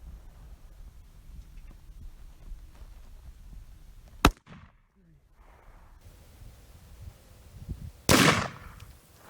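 Two sharp, loud AR rifle shots ring out several seconds apart, each a single crack over quiet outdoor background rustle.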